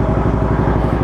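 A Suzuki Bandit 650 motorcycle engine runs close by with a loud, steady low throb of rapid even pulses, heard briefly on its own without talk.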